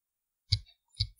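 Two crisp mouse clicks on a computer running Ubuntu's software center, spaced about half a second apart, close and clear against silence, with a faint third tick at the end.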